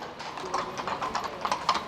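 Horse hooves clip-clop on a Vienna city street, a quick, even run of light clacks at moderate distance over a quiet urban background.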